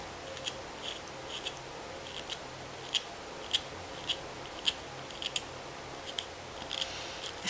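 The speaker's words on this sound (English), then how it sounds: "it's really nice sharpening pastel pencils." Faint, quiet scraping strokes of a knife shaving a Caran d'Ache pastel pencil repeat in an uneven rhythm over a soft, steady background hiss.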